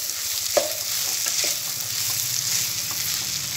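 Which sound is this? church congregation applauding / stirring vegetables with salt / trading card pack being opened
stirring vegetables with salt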